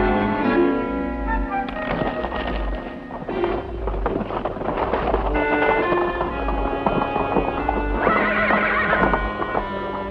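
A horse in a classic Western TV drama gallops with loud, rapid clip-clop hoofbeats and lets out several whinnies and neighs over a dramatic soundtrack.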